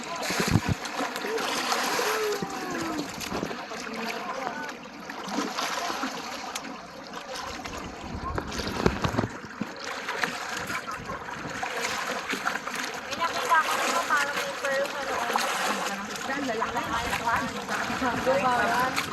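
A boat moving through choppy sea while island hopping in Bohol, Philippines, with a continuous wash of water and splashing under frequent conversation from people aboard.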